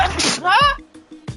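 A sharp sneeze burst stands out amid a character's speech in the Akiba's Beat video game, followed by quieter voices and a short breathy sound at the end.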